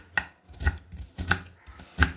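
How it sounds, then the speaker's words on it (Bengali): A knife chops onions on a cutting board while preparing a Bengali fish dish, producing three crisp, evenly spaced strikes close up with no talking. "তো এইভাবে পেঁয়াজগুলোকে খুব সুন্দর করে আমি কেটে নিচ্ছি।"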